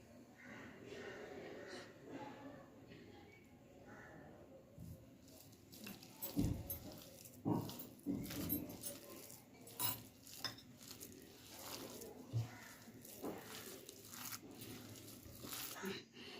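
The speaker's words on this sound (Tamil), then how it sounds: "இப்போ நம்ம பீட் பண்ணி வச்ச முட்டையை கொஞ்சம் கொஞ்சமாக ஊற்றி நம்ம மிக்ஸ் பண்ணிக்கணும்." Beaten egg stirred a little at a time into egg vada batter in a bowl, with clinking utensil scrapes and wet mixing sounds that grow busier partway through, quiet and close.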